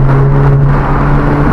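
Skoda Octavia vRS 2.0 TFSI with a decat 3-inch downpipe and 2.5-inch custom free-flowing rear section giving a loud, steady deep exhaust drone at close range, a brief sustained rev with no talk.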